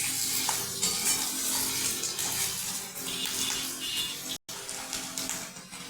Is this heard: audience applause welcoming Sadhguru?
no